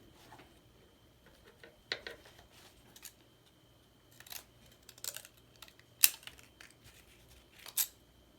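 Scissors snip paper for a junk journal collage, a scattered series of crisp, close cuts and small taps at irregular intervals over a quiet room, without any talking.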